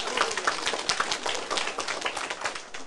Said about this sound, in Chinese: 甲拍手者